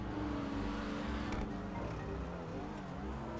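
A car engine driving in GTA V Online, a steady droning motor with slight revving throughout, dense and continuous with no talk.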